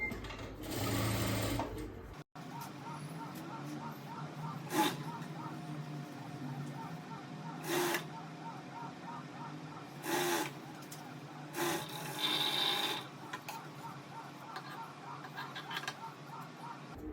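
Sewing machine stitching the lining of a blouse, a steady mechanical whir running almost throughout, with brief louder bursts and a short stop near the start.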